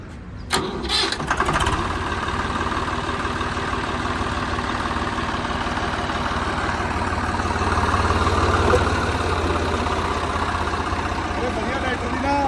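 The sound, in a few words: Swaraj 735 tractor engine starting and idling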